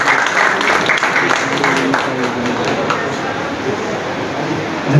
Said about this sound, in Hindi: एक बार जोरदार तालियों से आलोक भाई का